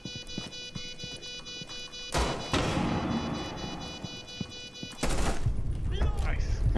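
A gunfight erupts in Rainbow Six Siege, with two loud bursts of rapid gunfire separated by quieter moments of clicks and movement inside a bathroom.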